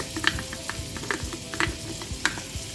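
Oil meets melted butter in a hot pan, giving a soft steady sizzle dotted with small crackles and pops, close and moderately quiet.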